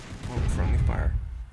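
Gunfire in a Russian Revolution battle video game: a short burst of booming, distant-sounding shots over about a second, dull and muffled rather than sharp.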